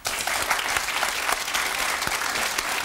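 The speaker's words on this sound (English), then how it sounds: "Let's give him a round of applause." An audience claps in a dense, steady round of applause that fills the space evenly and close throughout, without speech.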